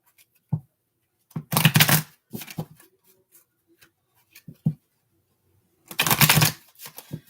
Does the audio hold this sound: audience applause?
no